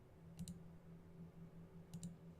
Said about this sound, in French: Donc, je vais cliquer.